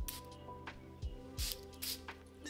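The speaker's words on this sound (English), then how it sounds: "I'm gonna go ahead and spray this one on me." A perfume atomizer gives a few short, hissy spritzes onto skin, each a brief burst of mist separated by pauses, close and fairly soft against a quiet room.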